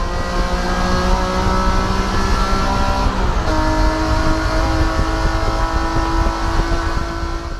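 A 326-horsepower GT3 race car engine roaring at speed, loud and sustained with a steady drone and a slight shift in pitch partway through, no voices.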